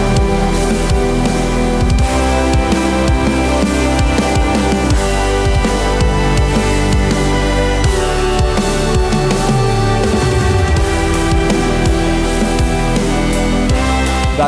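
A dense, sustained ensemble of stringed instruments synthesized with SWAM physical modeling plays continuously and loudly, with bowed sustained notes and moving lines layered over a full low end, and no pauses.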